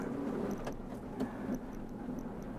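A used car's engine hums steadily at idle while faint, irregular knocks and clicks from worn engine mounts break through every so often; no one speaks.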